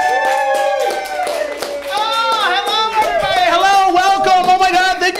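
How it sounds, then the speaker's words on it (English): A crowd at a live comedy podcast taping claps rhythmically beneath loud cheering and whooping voices, which build and grow more excited as the applause continues. "please give yourselves a round of applause for your host, Deadair, Dennis Maller."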